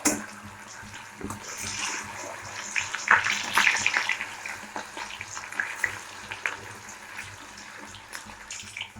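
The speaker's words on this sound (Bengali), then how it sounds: "পনিরগুলো ভাজা হয়ে গেছে," Paneer pieces fry in a pan with a steady sizzle and crackle, close up, with occasional stirring and the scrape of a utensil, and no talking.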